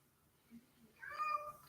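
A cat meows while being picked up, a short high mewing call rising after a faint earlier murmur and lasting about the final second, fairly close but quiet.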